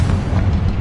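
A Confringo spell explosion in the Hogwarts Legacy video game sounds as a brief, loud, deep boom with a rumbling low-end burst, close and unaccompanied by speech.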